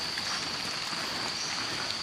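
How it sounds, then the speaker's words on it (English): Heavy night rain during the rainy season, falling steadily on surfaces as a dense, continuous wash of drops with a faint high whine running through it; no voices. "So that's why it rains."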